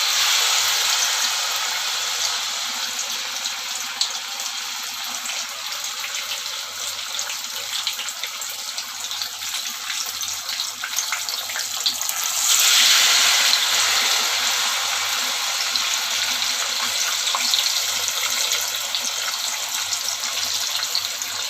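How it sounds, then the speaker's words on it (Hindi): Thin spinach and corn tikki batter fries in a pan with a steady, broad sizzling hiss that swells briefly midway, close and continuous, with no voices. "इस तरह से हम इसको अपने फ्राई पैन में डाल देंगे"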